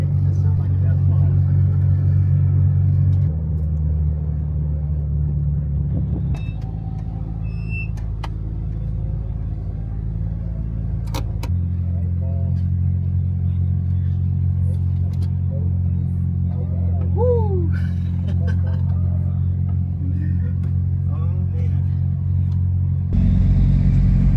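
Mitsubishi Evo race car lapping a circuit, a loud, steady engine drone with gear-change shifts and surges in revs, heard from close by in the cabin, continuous for the whole stretch.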